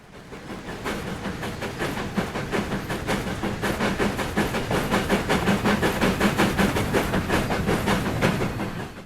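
Heavy freight train hauled by an 8F steam locomotive in Train Sim World 3 on the Peak Forest route, starting on a 1 in 90 uphill grade: loud, close, evenly spaced exhaust chuffs beat rapidly over a continuous rumble, with no voices.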